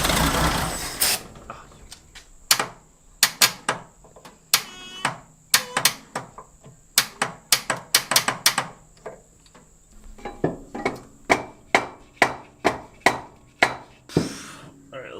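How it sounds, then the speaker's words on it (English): Sharp, steady hammer blows strike metal in a regular rhythm, close and loud, with a brief mechanical whir at the start. "It's a nice hammer, Kevin."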